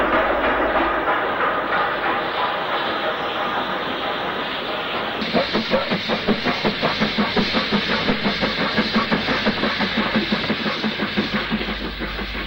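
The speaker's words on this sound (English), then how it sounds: "48757 crosses Crewe Junction at the north end of the station" Locomotive 48757 crossing Crewe Junction at the north end of Shrewsbury station in the 1960s, a steady rumbling roll that turns into a rapid, regular clickety-clack of wheels over rail joints, near and loud, with no voices.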